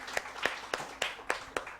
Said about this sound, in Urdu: بھرپور تالیاں ان کے لیے ہونی چاہیے